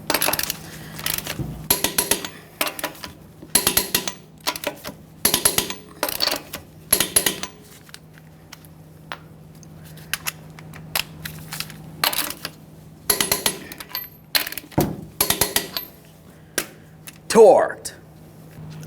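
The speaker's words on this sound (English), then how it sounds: "Torque each one of your lug nuts to 150 foot-pounds in a crisscross manner." A torque wrench tightens the lug nuts on a Ford F-150 wheel to 150 foot-pounds, giving sharp metallic clicks and ratcheting bursts in irregular clusters, close by, with a voice speaking at times.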